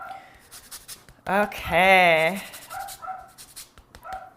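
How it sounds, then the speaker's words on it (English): A dog barks and whines in a long, drawn-out, tonal bark near the middle, with a person speaking briefly around it outdoors during flatbread grilling. "Sorry about that dog barking"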